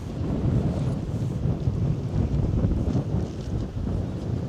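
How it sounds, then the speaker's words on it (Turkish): Strong wind sweeps through an open outdoor spot in a clean Japanese village, a continuous low roar that buffets the microphone in uneven gusts, loud and close, with no voices. "Ama normalde bayağı rüzgar var gerçekten."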